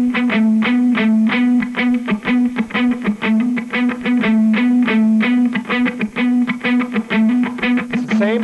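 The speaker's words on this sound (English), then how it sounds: "because I'm muting with my palm, my right hand, right around the bridge" Palm-muted distorted electric guitar plays a steady chugging rhythm pattern, muted at the bridge, loud and close with no voice over it.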